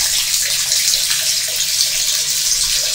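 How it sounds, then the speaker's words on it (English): A kitchen sink tap in a run-down council estate flat runs steadily, a continuous close, loud hiss and splash of water with no voices. "you put the tap on for 2 minutes"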